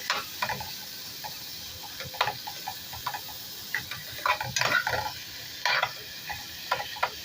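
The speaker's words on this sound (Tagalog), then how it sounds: "Gisa lang natin ng konti." Bitter gourd sautés in a small clay pot, a close steady sizzle under repeated scraping and tapping stirs of a utensil against the pot in uneven bursts.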